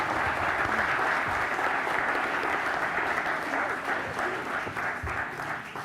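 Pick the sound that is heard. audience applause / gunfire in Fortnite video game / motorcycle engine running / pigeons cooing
audience applause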